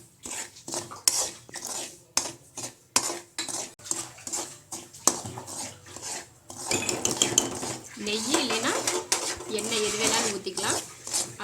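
Metal scraping and stirring as semolina roasts in ghee or oil in a pan for upma, steady rhythmic scratches, with a voice talking over the later part.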